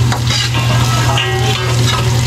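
Garlic and onion frying in a pan for pansit palabok, a loud, steady sizzle with crackling throughout and no talking.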